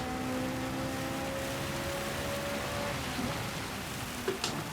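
Steady rain hiss in a Gran Turismo 7 race, a broad continuous wash of falling water with faint engine tones underneath and a couple of brief spatters near the end.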